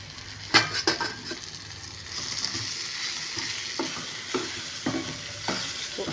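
Tempering spices sizzle and crackle in a hot pan while a spoon stirs and scrapes, with a sharp clink near the start and steady, evenly spaced stirring knocks over continuous frying hiss.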